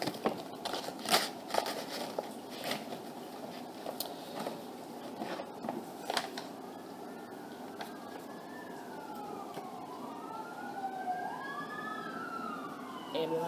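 An ambulance siren passes along a residential street, its wailing rise-and-fall sweeps growing clearer in the second half over a quiet indoor background with faint clicks.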